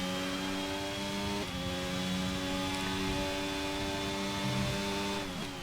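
Formula 1 race car engine in F1 22, a high whining tone stepping up through gears with sharp shifts, steady and loud throughout with no voices.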